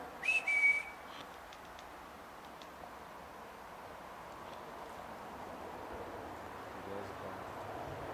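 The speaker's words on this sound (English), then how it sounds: "I just heard a whistle." A brief, thin whistling tone sounds near the start, then fades into a faint, steady background hiss.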